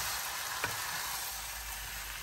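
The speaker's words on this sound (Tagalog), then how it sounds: "halo-haluin lang po natin para hindi dumikit yung ating kawali" Food in a Filipino kawali frying pan sizzles with a steady hiss close by while a faint spatula scrape stirs it.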